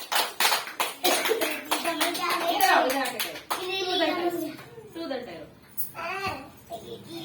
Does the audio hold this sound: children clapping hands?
yes